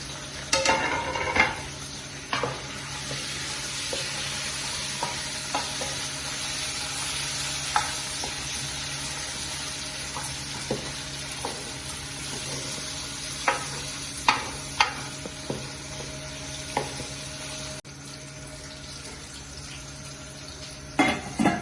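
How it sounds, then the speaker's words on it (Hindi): Fresh beans and green chilies sizzle steadily in hot oil in a pan for bottle gourd curry, with a continuous hiss broken by intermittent scraping clicks of a spoon stirring, close and fairly loud with no one talking. "अभी फ्रेश बीन को हम जो है हाँ ग्रीन चिली को फ्राई करेंगे।"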